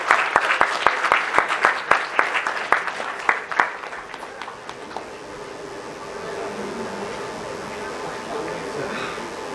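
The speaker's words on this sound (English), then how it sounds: "So everyone, please give a big round of applause." Rhythmic group clapping at a national conclave MOU exchange ceremony, sharp regular claps for about four seconds that loosen and fade into a softer, diffuse room murmur with talk underneath.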